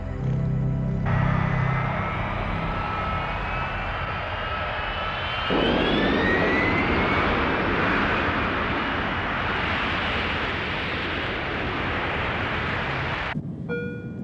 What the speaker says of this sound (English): Surge of power down that runway.